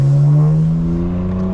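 A 2025 BMW M4 Competition xDrive with its exhaust valves open, giving a loud, close, steady droning exhaust note as the engine holds revs, heard alone with no talk.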